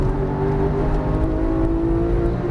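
A Porsche 991 GT3 engine pulls hard under acceleration on a race track, a loud, steady, rising drone with strong harmonics that holds throughout without a break.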